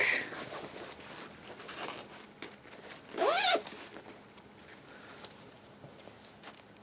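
A quick zipper pull rasps once near the middle, brief and close, amid quiet rustling and handling noise.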